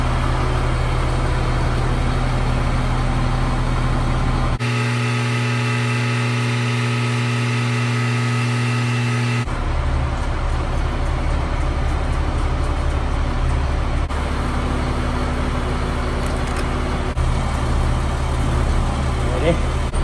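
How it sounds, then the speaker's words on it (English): A heavy service truck's diesel engine idles with a steady low rumble, while people talk over it. The engine sound gives way midway to a brief tonal passage, then returns. "Here's the heavy service truck."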